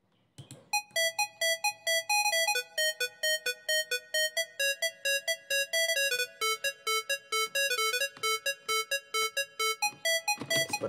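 A synth accompaniment preset called balon plays a bright, bell-like pattern of rapid plucked notes in a steady repeating rhythm, close and clear, with no voices over it.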